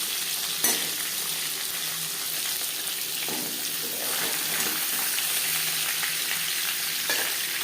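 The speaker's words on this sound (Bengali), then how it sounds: "প্রথম ব্যাচে মাছও মাছের মাথা ভাজা হয়ে গেছে তেল ঝরিয়ে একটা পাত উঠিয়ে নেব" Katla fish pieces and a fish head frying in hot oil give a steady, close crackling sizzle that stays fairly even throughout, with a few sharper pops and faint utensil sounds and no talking.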